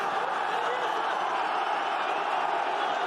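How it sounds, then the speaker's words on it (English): A packed rugby stadium crowd at Ireland versus New Zealand gives a steady, loud roar urging the players on, a continuous wash of massed voices with no break. "Crowd giving them the hurry up too."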